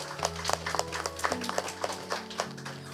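Scattered audience applause for the speakers at an education event, a sparse patter of individual claps, fairly soft and near, over a low steady hum.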